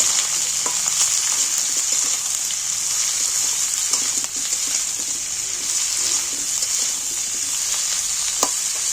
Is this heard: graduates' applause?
no